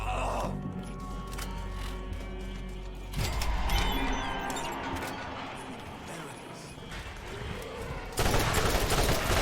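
Dense video-game gunfire from a Borderlands firefight, a busy stream of shots and bursts under game music and effects, with a sharp loud burst near the end and a voice talking over it.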